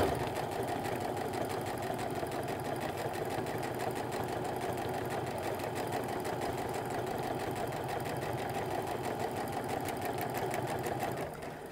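Fast, even mechanical whirr of a sewing machine running a 1/8 inch gathering stitch along apron fabric, a continuous close rattling hum held at steady speed for about eleven seconds before easing off at the end, with no talking.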